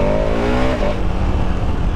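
A 2021 KTM 1290 Super Adventure S motorcycle engine revs loudly up close, its tone climbing and then dropping into a steady rumble over a short burst.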